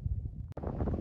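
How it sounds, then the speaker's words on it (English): Strong wind buffets the microphone outdoors at a garage shop building site, a rough low rumble that gusts continuously for about a second with one brief dropout. "It's very windy today"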